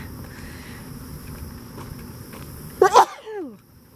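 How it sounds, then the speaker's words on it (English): One sharp allergy sneeze bursts out near the end over steady outdoor wind and hum by a creek, followed by a short trailing sniff. "I'm gonna sneeze again."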